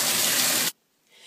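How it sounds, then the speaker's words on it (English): Tap water gushes loudly into a bath with orange bubbly water, a dense steady hiss that cuts off abruptly partway, leaving near silence and faint room noise. "I just stopped the water there because it was actually quite noisy"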